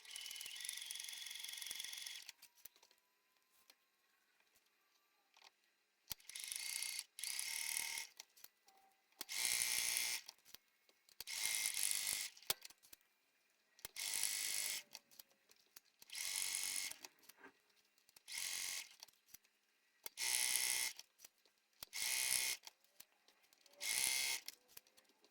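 A sewing machine stitches quilting lines across bra cups, running in a series of repeated bursts of a few seconds each with short pauses between, close and fairly loud, no talking.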